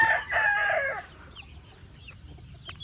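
A white rooster lets out one loud, close crow lasting about a second, followed by near-quiet with a few faint clucks and soft chirps in the background.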